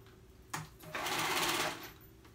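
A sewing machine stitches a stretched cuff onto the raw edge of a romper leg: a short tap, then a loud, steady whirring run of about a second that fades off.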